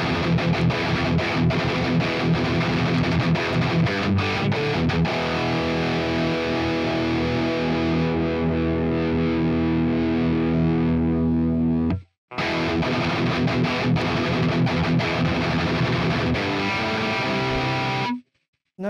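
A heavily distorted electric guitar runs through a Quad Cortex with no compressor, playing a dense, loud punk rock part that stops abruptly for a moment, resumes, and then cuts off again.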